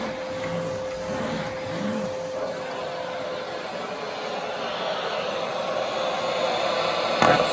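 A Dirt Devil handheld vacuum cleaner runs continuously with a steady broadband whir and a constant tone. It is close and fairly loud, with no speech.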